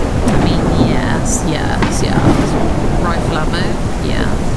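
Heavy rain in the survival game Mist Survival, a loud continuous downpour with rumbling low end, overlaid by short whistling or chirping tones and faint speech-like sounds.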